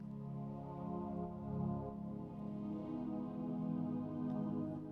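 A sustained synth pad holding low tones while a bass line comes in, the synth pulled down in level beneath the bass, steady and continuous with no talk.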